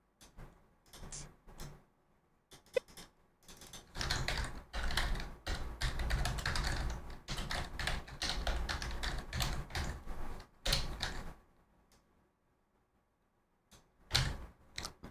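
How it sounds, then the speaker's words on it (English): Rapid clattering typing on a computer keyboard with the mic very close, bursts of dense keystrokes separated by short pauses and a few isolated taps, loud and crisp with no talk. "I have the mic really close to the keyboard for some reason. Maybe I should rename the stream Typing ASMR."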